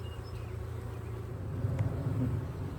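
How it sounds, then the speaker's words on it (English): Bees buzzing outdoors in an orchard with fruit trees, a close, continuous droning hum that swells louder in the second half, as though insects are brushing against the microphone. "Get these bees, they're bumping the microphone."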